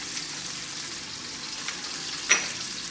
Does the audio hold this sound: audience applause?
no